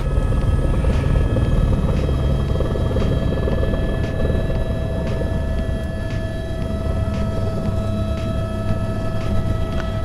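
A helicopter lifting off at Everest Base Camp, heard from inside as a loud, steady rotor drone with a regular thumping beat and engine whine throughout, no voices.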